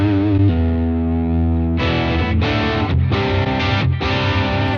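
Electric guitar played through an intense distortion pedal with no amp, a thick buzzy sustained chord fading, then a burst of loud chugging strummed chords, close and alone.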